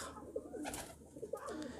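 A pigeon coos softly nearby, a few low throaty warbling calls in quick succession.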